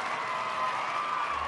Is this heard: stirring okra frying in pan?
no